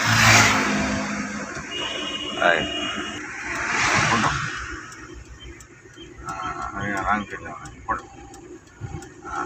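A car engine revs up in second gear, rising in bursts through the clip while someone talks over it.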